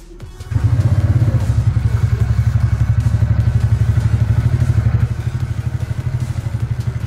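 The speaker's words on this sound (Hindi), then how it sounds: "एग्जॉस्ट साउंड आपको सुनाता हूँ।" A TVS Ntorq 125 XP scooter starts up and settles into a close, loud, steady exhaust putter with an even thumping pulse, easing slightly lower toward the end, with no voices.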